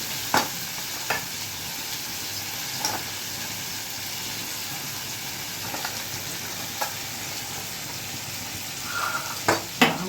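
Spices tempering in hot oil for a Gujarati potato curry, a continuous bright sizzle and hiss with occasional sharp pops and spoon clinks scattered through.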